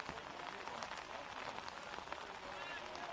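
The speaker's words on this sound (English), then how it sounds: "And the rain now adds a completely different dynamic to this game." Rain falling during an Australian rules football match between the AFL Academy and Port Adelaide, a faint steady hiss of drops on surfaces with commentary talk over it.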